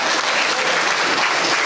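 A brief burst of thick, even applause from the crowd at a folk song festival, close and loud without a break.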